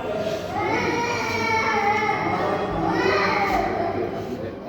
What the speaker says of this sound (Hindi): ये उस बच्ची के बिलखने की आवाज है जो एक हैवान का शिकार बनी।